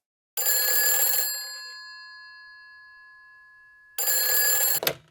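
A telephone bell rings in two bursts, loud and close, each shrill ring trailing into a fading ringing tone before the second ring cuts in.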